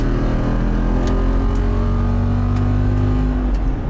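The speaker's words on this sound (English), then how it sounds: "there's a fun button right down here that opens up the exhaust, so punch it and let them hear it" A Jeep Wrangler 392 V8 revs with its exhaust valves open, giving a loud, close, deep rumbling drone that holds steady and eases off slightly near the end.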